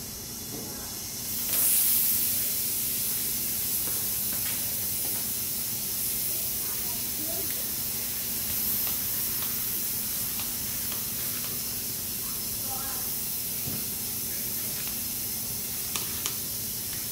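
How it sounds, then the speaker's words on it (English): Leak-test liquid sprays with a steady hiss onto the welds of a custom oil pan on an LS-swapped Nissan 350Z under pressure test, over a constant low mechanical hum, with a brief louder burst near the start and a few faint clicks. "Spray all the edges, all the welds."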